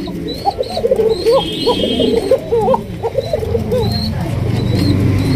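Pigeons for sale in a coop coo repeatedly in short warbling phrases, close and clear, with soft rustling underneath.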